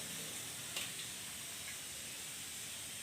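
Mustard seeds heat in oil on a high flame for a Karnataka-style bendekai palya, giving a faint, even sizzling hiss with one or two small crackles, heard alone.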